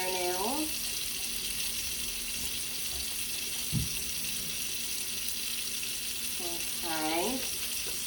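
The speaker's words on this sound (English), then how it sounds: "you're going to have your hand point down so the soap rinses off." Tap water runs steadily while soapy hands are rinsed under it, hands pointed down, a continuous broadband splashing hiss at moderate level, with a voice speaking briefly near the start and again near the end.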